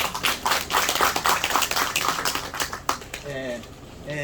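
An audience at a Korean farming talk on Shine Muscat grape growing claps in thanks, a brisk patter of many hands that tapers off after about three seconds as a voice begins speaking.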